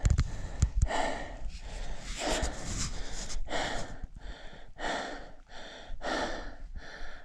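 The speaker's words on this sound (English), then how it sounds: "I'm breathing really hard right now" Heavy, labored breathing of a climber winded on a high mountain ascent, a steady run of loud, close gasping inhales and exhales repeating about once per second with no talk.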